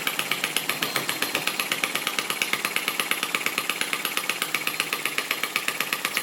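Lister D model stationary engine putting along steadily up close, a loud, even chugging beat with regular firing pulses throughout and no voices.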